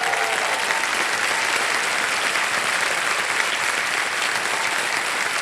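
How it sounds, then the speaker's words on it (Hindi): Steady applause from a studio audience at a television quiz show, loud and sustained with dense, even clapping throughout and no voices. "तालियां बज जाए इनके लिए।"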